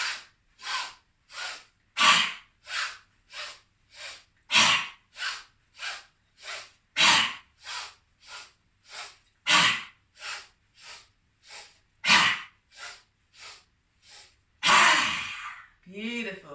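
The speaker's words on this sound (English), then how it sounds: "taking a deep breath in, long breath out" A guided breathing exercise during a grounding flow, with a steady series of deep breaths in and out repeated many times, fairly close and clear, each breath a short airy burst, with a longer, stronger exhale near the end.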